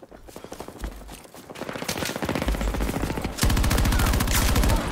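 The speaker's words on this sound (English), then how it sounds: "Using my favorite gun. PKP-BP." PKP-BP machine gun fire in Battlefield 2042 free-for-all gameplay: rapid sustained automatic bursts, loud and close, growing denser and heavier toward the end.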